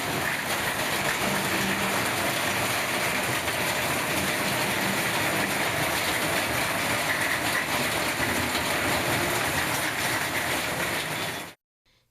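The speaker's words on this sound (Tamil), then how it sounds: "பல இடங்களிலும் கனமழை கொட்டியது" Heavy northeast monsoon rain in Tamil Nadu pours as a dense, unbroken roar of loud noise for about eleven seconds, then cuts off abruptly.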